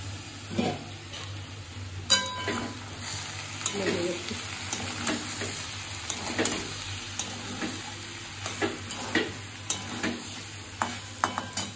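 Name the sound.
prawns frying and being stirred in a pan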